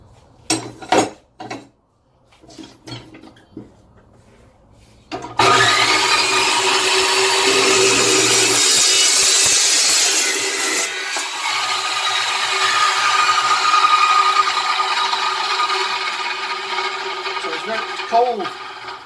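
An Evolution Rage 2 saw cuts cleanly and quickly, its loud, continuous whining roar running for most of the clip after a few sharp knocks at the start.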